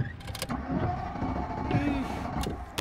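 A car engine cranks and catches in a Moscow parking lot, settling into a steady idle close by, with a brief whir and clicks inside the cabin and someone talking over it.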